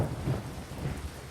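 Rain and low thunder rumble in a Viking strategy game, soft steady rainfall with a couple of faint rolling thumps, quiet in the background.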